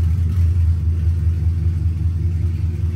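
A naturally aspirated Ford Coyote V8 car rumbles loudly and steadily through custom budget-built open race exhaust dumps, a deep, continuous idle-to-rev growl held close up for the whole stretch without talk.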